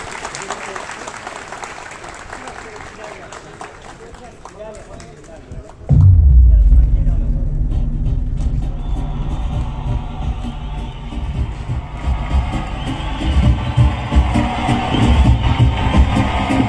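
A hall audience bursts into sustained applause to welcome the Zonguldak Associations Federation president onto the stage at a Zonguldak promotion days event, with a loud, steady clapping rumble after a spoken introduction.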